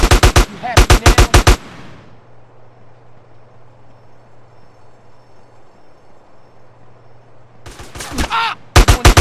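Rapid automatic gunfire in GTA San Andreas, loud close bursts at the start and again near the end, separated by a quiet stretch with a low steady hum.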